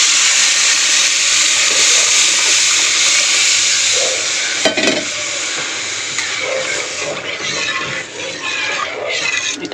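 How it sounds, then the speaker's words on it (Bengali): Boiled masoor dal, premixed with salt and turmeric, hits a pan of fried onion tempering. A loud, continuous steamy sizzle and hiss follows, settling slightly but staying strong throughout. "আমি এবার সিদ্ধ করে রাখা মুসুর ডালটা ঢেলে দেবো"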